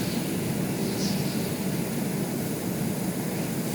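A steady, droning aircraft engine from a 747 airliner in the video game Stormworks roars evenly and continuously at moderate loudness, with no voices over it.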